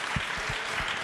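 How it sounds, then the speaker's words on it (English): An audience applauds after a talk about a Blue Origin space flight, a brief, dense burst of many hands clapping together at an even level. "Yes, please applaud for that."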